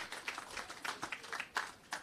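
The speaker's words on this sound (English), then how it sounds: "I think he deserves a big rousing round of applause" A conference audience at an agriculture and fisheries talk show gives a round of applause, a faint, scattered patter of clapping over about two seconds with a few sharper claps standing out.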